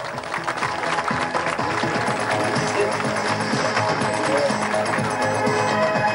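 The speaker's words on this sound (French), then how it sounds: "vous pouvez applaudir" An audience at an event in Nice applauds steadily and densely throughout, with voices mixed into the clapping.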